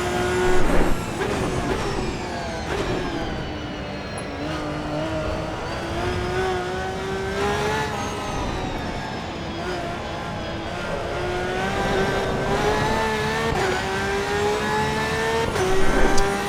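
A race car engine in the Assetto Corsa EVO driving game, revving steadily with rising and falling pitch as it accelerates and shifts through corners, close and continuous throughout.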